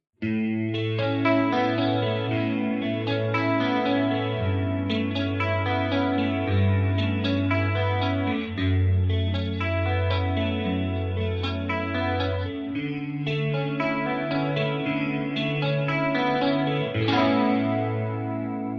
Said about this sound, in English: the SP 2016 reverb with the vintage stereo algorithm preset to that algorithm